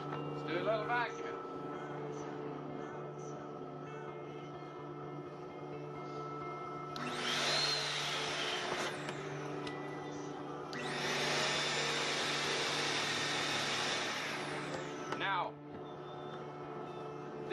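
A vacuum pump's steady motorized whine hums throughout, swelling louder in two long bursts of rushing air, with a few faint voices underneath.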